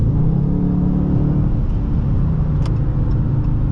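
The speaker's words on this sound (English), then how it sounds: "I do hear the rumble of the exhaust and the engine" Low, steady exhaust and engine rumble from a 2021 Dodge Charger R/T while driving, a continuous deep drone heard from inside the car with no talking.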